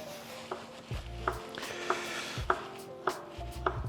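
A knife cuts through ripe mango on a board for mango sticky rice, thin slices taken one after another, each a sharp close tap on the board, with some soft dull thumps between, and no voice.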